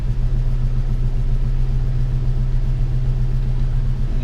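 A 1998 Ford Ranger farm truck with a 3.0 engine idles after a light blip of gas, a steady close low rumble with an even pulsing throb, alone without speech.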